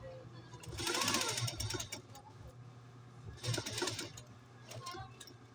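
A post-bed industrial sewing machine stitches a zipper in two loud bursts of rapid mechanical whirring separated by a pause, with a steady low hum throughout and people talking nearby.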